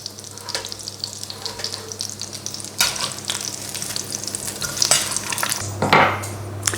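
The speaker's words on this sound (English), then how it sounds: "just frying the chicken schnitzels in the same way over a medium heat" Crumbed chicken schnitzels frying in oil over medium heat, a close, steady sizzle with crackling bursts and occasional utensil clinks, with no talking.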